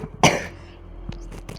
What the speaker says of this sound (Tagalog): Sorry guys kung inuubo ako, may sakit talaga ako kahapon.